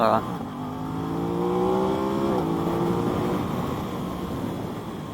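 A 2021 Aprilia RS660 parallel-twin motorcycle on a track, its engine revving up in a rising tone then dropping back, close and fairly loud with wind rush, a voice talking over it.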